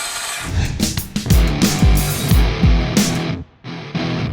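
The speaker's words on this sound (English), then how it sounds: "the newest 20-volt brushless impact driver in the XR lineup" A DeWalt DCF845 20-volt XR brushless impact driver drives screws in a loud, close burst of repeated hammering pulses with a steady mechanical rattle, ending briefly before a short restart.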